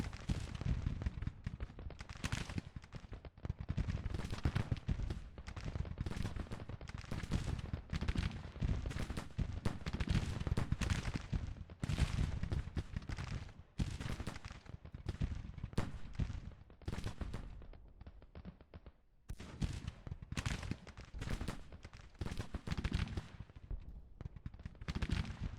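A Civil War brigade fires muskets in Grand Tactician: The Civil War, a dense, ragged crackle of overlapping shots that keeps going at a fairly quiet, distant level with only brief gaps.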